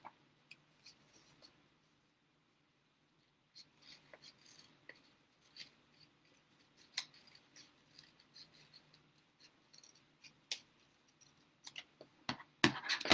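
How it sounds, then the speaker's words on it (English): Scissors cut a half circle through folded paper, making soft intermittent snips and rustles close by after a quiet start, growing busier toward the end. "So I'm going to cut along this line."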